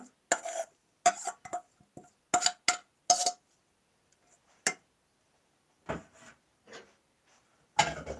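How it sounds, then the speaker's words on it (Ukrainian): Knife chopping onion on a board while preparing vinaigrette salad with beetroot, potato, cucumber, carrot and cabbage; sharp, irregular cuts in short bursts with pauses, close and moderately loud. "Зараз додаю сюди капусту і ще поріжу цибулю."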